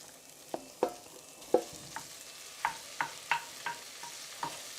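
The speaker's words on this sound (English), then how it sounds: "we're going to add the ground beef. Break it down with your spoon," Ground beef added to a pan of browned onions for chilli, sizzling softly while a spoon breaks it apart in a series of distinct scraping taps and knocks, close and fairly quiet, no talking.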